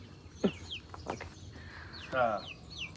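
Chickens cluck and squawk nearby in short, scattered calls, with some chirpy bird notes and faint movement around them.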